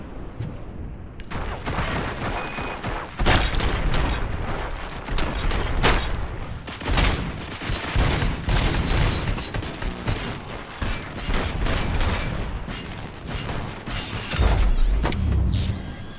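Sustained gunfire rattles in the video game RoboCop: Rogue City, with dense, loud volleys of shots and impacts hammering almost without pause, punctuated by heavier booms and mechanical clanks.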